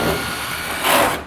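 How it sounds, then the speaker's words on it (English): Power drill boring a 3/8 inch hole into drywall for an anchor, a steady close whir that swells louder near the end before cutting off. "You're going to drill your 3/8 inch hole."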